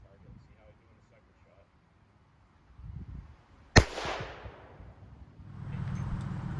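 A single sharp crack from a .38 Special Ruger Police Service Six revolver fired at a target, loud and sudden, with a short decaying echo, followed by rustling and low outdoor noise.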